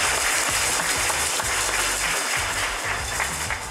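Virtual cheering section for a workplace award winner: dense, continuous applause at full strength throughout, a steady wash of many hands clapping with no talk on top.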